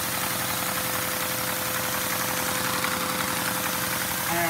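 A LEGO inline-four vacuum engine, modded with hot-glued valves, runs steadily at speed with a continuous, fast mechanical chatter and hum throughout, close and unbroken, no voices.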